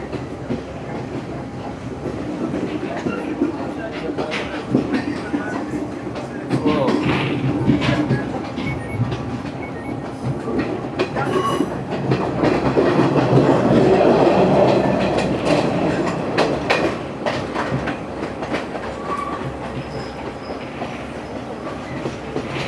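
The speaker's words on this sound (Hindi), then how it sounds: "ट्रेन की स्पीड कम हो रही है।" A Sri Lankan passenger train between Ella and Ambewela slows down, its steady rumble and clickety-clack of wheels on rails swelling briefly before easing, heard from inside a carriage.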